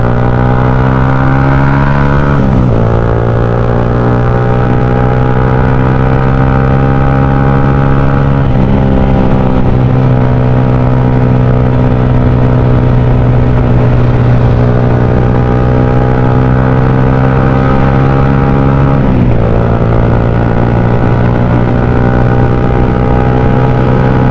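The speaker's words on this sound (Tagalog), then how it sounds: "ang sarap talaga kapag tinatodo mo yung silinyador mo eh" Motorcycle engine held at full throttle while riding, a loud sustained drone with a few brief dips and climbs as gears change, close and continuous.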